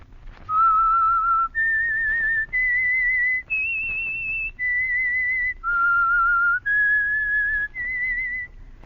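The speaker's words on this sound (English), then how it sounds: "the signal to listen for is this whistle that identifies the Whistler" Whistled theme signal for The Whistler radio mystery show, 1949 broadcast: a clear, loud melody of eight sustained whistled notes, each held about a second with short gaps, heard alone with no talk.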